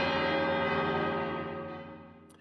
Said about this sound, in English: We hear the bell tolling